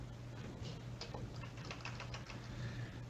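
Typing on a computer keyboard while working in Microsoft Excel, with soft, quick clicking keystrokes in an irregular rhythm over a steady low hum, close and fairly quiet, with no voices.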